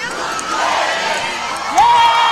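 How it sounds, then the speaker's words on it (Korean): A crowd at a Moon Jae-in presidential election rally chants his name in loud massed voices. The roar swells toward the end as a shrill whistle cuts through. "문재인, 문재인, 문재인 세 번 연호하겠습니다"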